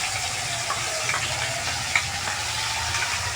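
A paste of tomato, onion and ginger fries in a pan with a steady, close sizzle. A few faint clinks sound over it and no one speaks.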